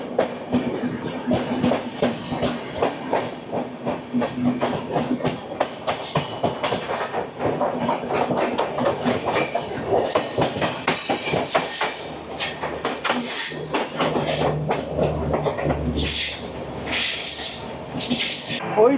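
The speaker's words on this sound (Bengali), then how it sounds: "ওই যে চলে গেল ট্রেন নাম্বার 12353 হাওড়া লালকুয়া সাপ্তাহিক সুপারফাস্ট এক্সপ্রেস" The Sealdah Ajmer Express runs along the rails with a continuous rumble, rapid clickety-clack of wheels, brief squeals and hiss, loud and sustained throughout, the tone shifting deeper in the second half.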